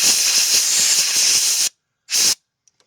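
Compressed air hisses loudly in a steady blast through a 22RE fuel injector to clear debris from its clogged pintle recess, then cuts off, followed by one shorter burst.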